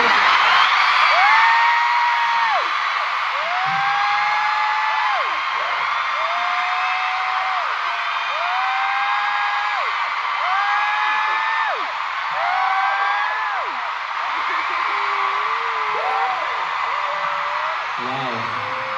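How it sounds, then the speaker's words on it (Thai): A large concert crowd of fans at a K-pop show in Bangkok screams and cheers in a sustained, loud wash, with high piercing squeals rising and falling in repeated waves across the whole stretch. "อยากฟังเสียงกรี๊ดของทุกคนอีกสักครั้งหนึ่ง"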